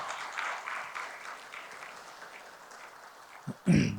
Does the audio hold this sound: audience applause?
yes